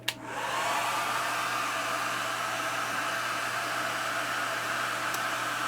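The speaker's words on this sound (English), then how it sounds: "Now I'm going to turn the hairdryer on low." A hair dryer switches on and runs on its low setting in a room, giving a steady airy whoosh that starts sharply and holds level for several seconds. A faint click sounds partway through.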